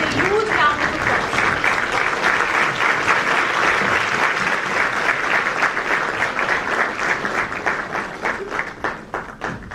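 An audience at a moot court valedictory ceremony bursts into loud, sustained applause welcoming Justice Abdul Moin, dense clapping filling the hall and tapering slightly toward the end.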